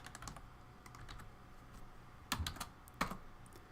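Fingers typing on a computer keyboard while writing code, a steady patter of quiet keystrokes with two louder, sharper key presses near the end.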